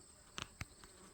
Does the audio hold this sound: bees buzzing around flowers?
yes